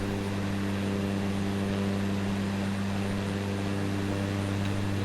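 A Cessna Grand Caravan's turboprop engine in Microsoft Flight Simulator on a cargo flight gives a steady, droning hum with a constant low tone and a faint airy hiss. It plays on without pause and without talk.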